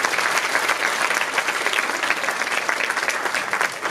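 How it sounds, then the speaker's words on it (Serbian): An audience at a kindergarten New Year performance in Mostar gives preschoolers a big round of applause: dense, sustained clapping from a large crowd, loud and even for several seconds with no break. "Veliki aplauz, molim vas za njih."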